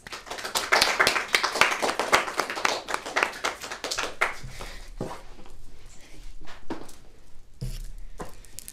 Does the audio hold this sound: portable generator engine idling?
no